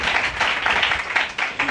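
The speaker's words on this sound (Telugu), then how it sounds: "ఇప్పుడు కొట్టండి చప్పట్లు" A congregation at a church gathering breaks into applause, a dense, loud wash of many hands clapping together in uneven surges, with no voices over it.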